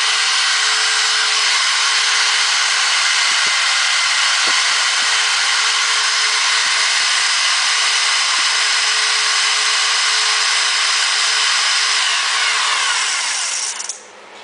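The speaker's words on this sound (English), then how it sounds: "I don't want to burn the motor out on this cheaper Ryobi drill here" Cheap Ryobi power drill boring steady and loud with a dull bit into a Chevy 10/12-bolt rear end housing during a disc brake upgrade, one continuous high whine with faint ticks, stopping abruptly at the end.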